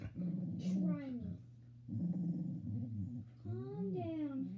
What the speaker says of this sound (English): This is Midget Boy's dog.